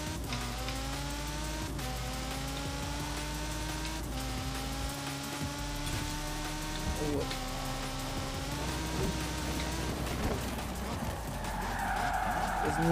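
A Nissan Z sports car skids in a racing video game, its tires squealing in long sustained smears over a steady engine drone, with a person talking over it.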